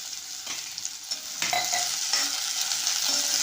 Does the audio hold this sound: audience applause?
no